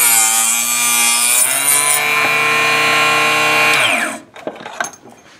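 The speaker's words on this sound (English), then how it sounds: "So that gave us a really nice cut in plastic." A Harbor Freight 2-inch mini chop saw slices through plastic, a loud steady whining motor with a sustained grinding cut that runs about four seconds, then winds down and stops, followed by a few faint clicks and handling noises.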